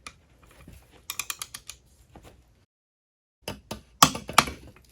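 A torque wrench set to 55 pounds tightens a propeller nut on a boat outdrive, producing bursts of sharp ratcheting clicks close by, with a short silent pause before the loudest clicks near the end.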